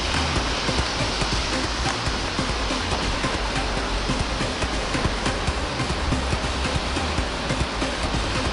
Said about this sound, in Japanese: あいにくの雨ですが